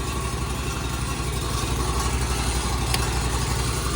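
A drain jetter engine mounted on a ute idles steadily, a constant close mechanical drone with a faint rattle and no breaks, heard alone.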